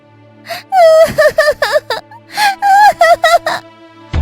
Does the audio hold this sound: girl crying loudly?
yes